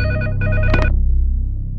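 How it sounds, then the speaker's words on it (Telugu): A telephone rings with a couple of loud, close electronic bell bursts, then the ring fades into a short decaying tail, with no speech over it. "Hello, పృథ్వీకి phone."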